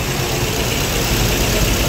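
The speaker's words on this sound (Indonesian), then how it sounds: "Suara mesinnya halus," A used car's engine idles with a smooth, even low hum, steady and close without revving or knocking.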